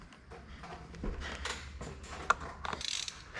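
Bolts on a Suzuki outboard motor being run in slowly by hand, giving close intermittent metallic ratcheting clicks and light scrapes in a quiet workshop.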